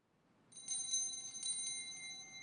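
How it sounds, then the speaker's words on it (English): A small hand bell rung by an altar server on entering at the start of a traditional Latin Mass, giving two bright clustered jingles that leave a sustained ringing tone in a quiet church. "It is also customary for the server to ring a bell as they enter to alert the people that Mass is beginning."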